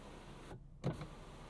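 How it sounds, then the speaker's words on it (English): A power sunroof shade in a 2022 Kia Stinger GT moves with a quiet, brief motor whir, a short pause, then a soft thunk as it stops, all very faint over low cabin hum. "Power sunroof shade."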